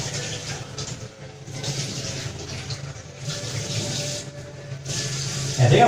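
Vegetables are washed under a running tap, a continuous hiss of water that rises and falls as the stream is broken up, moderately loud and close, with a louder clatter at the very end.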